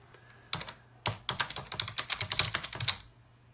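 Fingers tap a MacBook Pro laptop keyboard up close, a brief pair of keystrokes followed by a fast run of about a dozen crisp clicks over roughly two seconds, with no voice.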